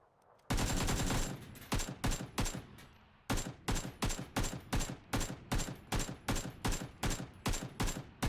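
Gunfire in the video game PUBG: loud rapid bursts of automatic fire, first a sustained volley, then a steady rhythmic series of short bursts, close and dominant with no talk.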